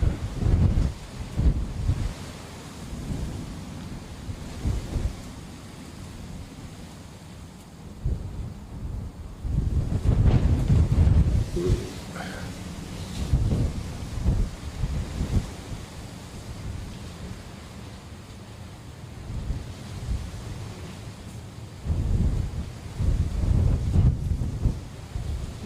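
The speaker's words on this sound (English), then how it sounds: "Wind is getting stronger, methinks." Strong gusty wind at Dublin Airport buffets an outdoor microphone, producing loud rumbling bursts that surge and fade repeatedly across the recording without speech.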